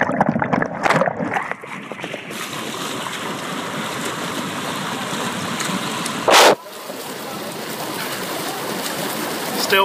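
Water churns and sloshes in a hot tub at a fitness center pool area, a close, steady bubbling wash with splashy handling noises at the start and a short loud burst of rushing water partway through.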